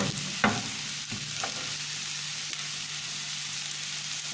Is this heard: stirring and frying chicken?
yes